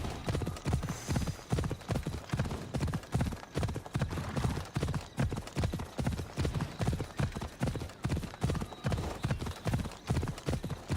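Horse hooves galloping in Assassin's Creed Odyssey, a fast, steady, continuous clip-clop rhythm, close and loud throughout with no pauses.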